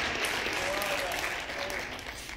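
Congregation applauding the Lord during a rabbi's Passover sermon, a steady, dense wash of clapping that fills the room at moderate loudness throughout, with voices mixed in.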